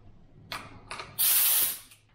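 Compressed air hisses into a cylinder of a Subaru Impreza 2.5L engine during a leak-down test: two brief puffs, then one strong, steady, loud blast of spray lasting about half a second before it tapers off.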